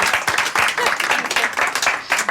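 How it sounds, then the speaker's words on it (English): Applause fills a room in a charity shop, with steady, lively hand-clapping from a small group of people, close and fairly loud, a few voices mixed in. "I've never had the clap from them."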